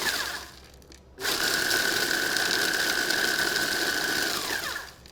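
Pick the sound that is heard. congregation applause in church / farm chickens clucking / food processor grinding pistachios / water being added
food processor grinding pistachios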